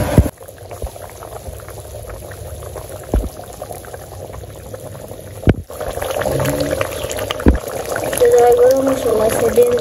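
Meat curry simmering in a pot after water is poured over the browned meat in a village kitchen, a continuous bubbling, boiling wash that grows louder toward the end, with a voice speaking at times.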